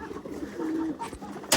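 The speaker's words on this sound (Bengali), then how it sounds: "এখানে ফেন্সি কবুতর, যেমন ধরনের রেসার কবুতর, গিরিবাজ কবুতর, হাই ফ্লেয়ার" Fancy pigeons at a pigeon farm, including racers, Giribaz and high flyers, coo softly in low, rolling phrases, with a brief rustle or flap near the end.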